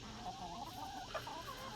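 A backyard chicken flock clucks softly in a continuous, low murmur of overlapping hen calls, with one slightly sharper cluck partway through, fairly faint and with no talking.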